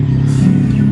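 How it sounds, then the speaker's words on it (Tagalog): A motorcycle engine on a road ride revs hard, a loud, close, sustained low drone that rises briefly in the middle. "galit na galit yung motor ni Jacob"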